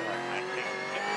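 A Supercars race car heard from the onboard camera at the Bathurst 1000, its engine holding a loud, steady high-pitched note with no one speaking.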